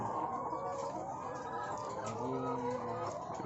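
Chickens cluck softly and repeatedly at close range around the coop where warm eggs are being gathered, a low muttering chorus with no talk over it.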